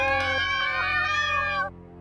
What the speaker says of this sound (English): That's a cat.